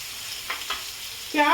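Onions fry in a pan on a low gas flame while a drumstick kadhi is being cooked. Two soft stirring scrapes come first, then a loud burst of sizzling fills the end.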